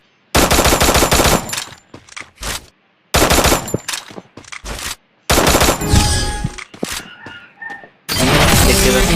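Video game gun firing in rapid automatic bursts, loud and close, with several long volleys separated by brief silences and scattered single shots.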